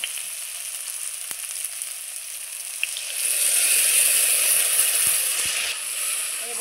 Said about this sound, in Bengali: আমি ওলের ডাঁটাটা খুব ভালো করে লাল লাল করে ভেজে নেব